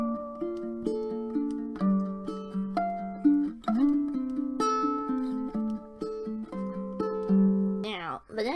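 A ukulele plays the fingerstyle intro riff of a song, with clear plucked single notes and small chord shapes in a steady melodic line, close and clean, ending on a quick strum.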